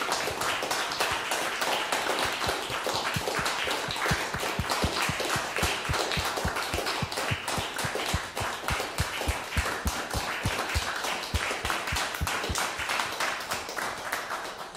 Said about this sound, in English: I'm going to ask our small audience to give a big round of applause for Siqian.